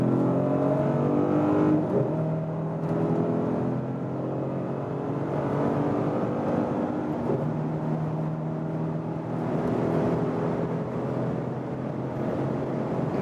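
A 2021 Mercedes GLS in Sport Plus mode accelerates hard at high speed, engine note climbing through rising pitch with brief drops at gear shifts, steady loud cabin roar throughout.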